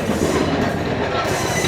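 ICF coach train pulling slowly out of Guntur Junction, a loud, steady rumble of wheels and carriage noise heard from on board.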